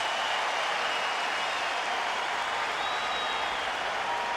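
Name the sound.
crowd giving a standing ovation at baseball game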